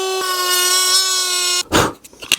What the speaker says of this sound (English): we're going to get this guy and we're going to see if we can Dremel that out a little bit.